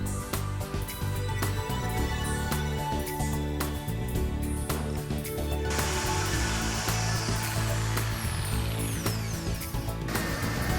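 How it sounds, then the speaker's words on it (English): A jigsaw cuts a curved hand recess into a wooden Lego tabletop with a loud, continuous buzzing rasp that keeps changing pitch slightly as the blade works through the wood. "will cut it out with my jigsaw"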